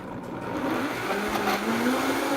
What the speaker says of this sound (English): we're gonna give it all a good blend